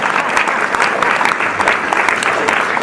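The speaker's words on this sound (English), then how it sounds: "Let's give her a round of applause." An audience at a WBC conference opening session breaks into loud, sustained clapping, a close and continuous wash of applause with faint crowd voices mixed in.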